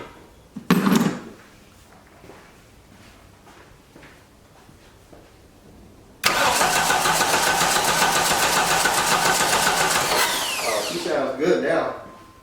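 A 1989 Dodge Daytona ES engine cranks, then catches at once and runs steadily and loudly with a harsh mechanical drone for several seconds before revving and dropping off; a brief burst of talk comes just before it starts.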